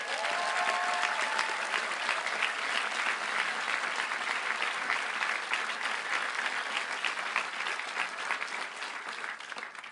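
A graduation audience applauds at a law school commencement ceremony, dense sustained clapping from a large crowd, even and somewhat distant, running unbroken for the full stretch with a faint voice briefly under it.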